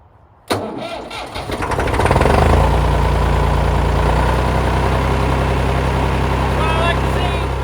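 An engine on a homemade crew cab Ford cranks with thick gear oil dragging on it, catches, and roars up before settling into a loud, steady close idle, with people talking over it.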